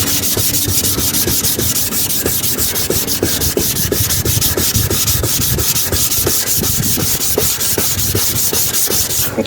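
Wet and dry sandpaper rubbing back and forth over a car headlight lens during restoration, a loud, fast, steady rasping stroke rhythm heard up close with no talking.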